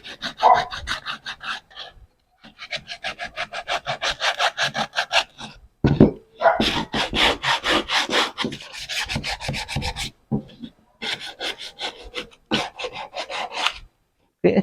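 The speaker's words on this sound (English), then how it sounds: "You call this sanding block." A sanding block is rubbed against a wall in a run of quick, rhythmic back-and-forth scrapes, close and moderately loud, broken by brief pauses between bursts.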